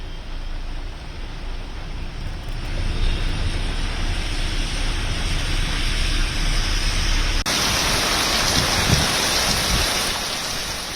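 Heavy monsoon rain pours down in India as a dense, steady hiss, with the downpour's texture shifting abruptly partway through.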